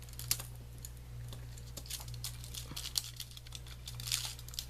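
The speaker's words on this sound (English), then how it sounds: "So I think they're dry, and let's try to peel them off." Dried hot glue embellishments are peeled off foil, giving close crackly crinkles and small snapping ticks over a low steady hum.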